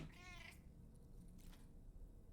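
A cat in the video game Death Stranding 2 lets out a short, wavering meow at the start, then fades under a low, steady background hum.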